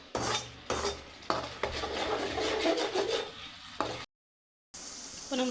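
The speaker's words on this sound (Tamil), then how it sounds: "இப்போ டொமேட்டோ பேஸ்ட் வந்து நல்லா ஸ்மெல் போகிற வரைக்கும் நல்லா வதங்கணும்" Tomato paste sautéing in a pan while being stirred, giving steady scraping and rasping strokes with a soft sizzle, interrupted by a brief silent gap before the frying resumes.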